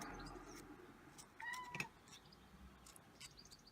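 A house cat meows indoors, giving a couple of short, fairly quiet calls in a hushed room.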